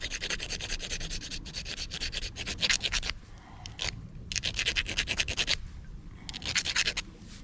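A toothed striker scrapes a magnesium fire starter rod up close in quick rhythmic strokes. The strokes come in bursts of rasping, gritty grinding separated by short pauses.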